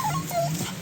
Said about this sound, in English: that's the dog whining.